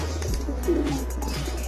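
Pigeons cooing in a backyard loft, a soft low burbling coo over a steady low hum, close and alone without talk.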